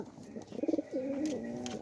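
A large-winged pigeon with yellow eyes gives a short, soft, fairly close coo, a quick pulsing note followed by a longer, smoother drawn-out call.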